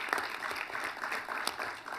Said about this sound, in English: Let's give both ministers a round of applause.